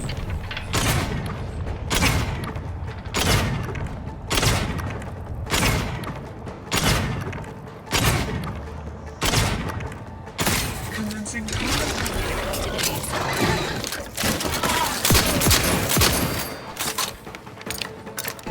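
Shotgun blasts in the video game Outer Worlds 2, a rapid series of loud booming shots in regular bursts, with heavy thumps and clatter under a voice talking throughout.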